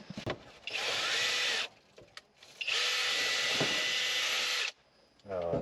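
A power drill with a bit runs in two long loud bursts with a short pause between, near and harsh, working on a 1978 Chevy K10 pickup.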